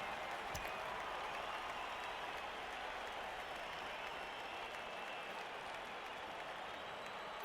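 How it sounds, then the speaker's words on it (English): Fans in a fantasy football video game cheer and applaud as a dense, continuous roar of clapping and crowd noise, steady and loud throughout without any clear speech. "Cheering fans."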